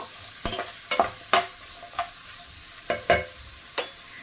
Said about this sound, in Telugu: బ్రౌన్ కలర్ వచ్చే వరకు మనము ఫ్రై చేసుకుందాం